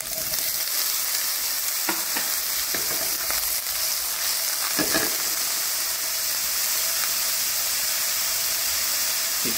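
Paneer cubes frying in butter for a paneer lababdar curry, a steady loud sizzle and hiss throughout with occasional stirring clicks and scrapes, no voices.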